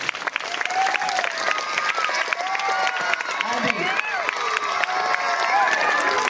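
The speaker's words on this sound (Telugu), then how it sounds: "ఒకటి చప్పట్లు వేసుకోండి" A crowd breaks into loud applause with scattered cheers and shouting voices mixed into the clapping.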